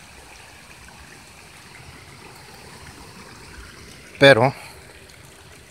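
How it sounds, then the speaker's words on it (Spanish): Water flows steadily through a ravine that carries irrigation water, a continuous low rush in the background, briefly interrupted near the end by someone speaking a word. "Aquí es donde pasa la barranca, ahí es donde pasa el agua."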